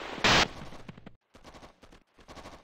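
Gunfire rings out in the Operation Flashpoint war game as soldiers engage a machine gunner, a sharp loud shot up front followed by quieter bursts of fire in uneven clusters.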